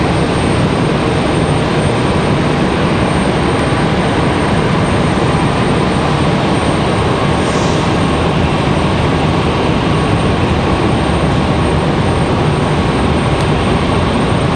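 A Boeing 737 Max taxiing and turning left at Raleigh-Durham airport gives off a constant loud, dense jet engine roar with a faint high whine, steady and unbroken throughout with no voices.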